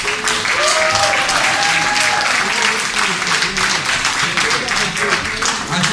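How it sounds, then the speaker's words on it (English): Sustained, loud applause from an audience at the 2018 Hollywood South awards ceremony, dense clapping filling the whole stretch with a few voices calling out above it. "And another big round of applause for Mr."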